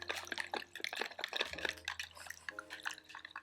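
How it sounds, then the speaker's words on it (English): A whisk stirs half a cup of water with spices in a bowl, making quiet, rapid clicking and light splashing that continues steadily throughout. "we're just going to use our whisk here just to get this stirred up together"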